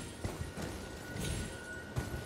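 Horse hooves thud in a quick, uneven clip-clop as a mount gallops and leaps in the video game Elden Ring, heard as a few soft muffled beats over a dense, rumbling game-world background.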